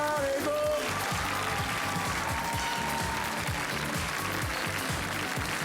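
Studio audience on the French game show Une famille en or applauding departing contestants, a steady wash of clapping over loud music with a bright melodic line early on, no clear talk.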